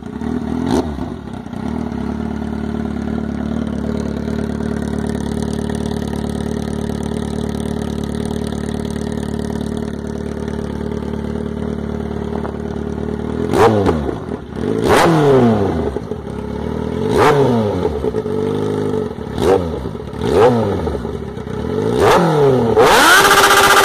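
A Kawasaki Z750 motorcycle engine with a full titanium Akrapovič exhaust idles steadily, then revs sharply several times in quick bursts, the exhaust barking loudly with each throttle blip.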